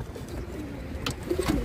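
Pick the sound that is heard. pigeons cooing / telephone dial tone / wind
pigeons cooing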